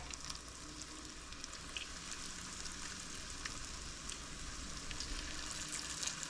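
Cornstarch-coated pork pieces fry in a pan with a steady, dense sizzle and crackle that runs the whole time, close and even, with no voices over it.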